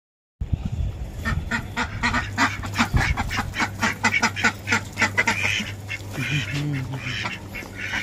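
Turkeys calling on a turkey farm, a dense flock giving repeated loud gobbles and honking cries that overlap continuously, close and busy throughout.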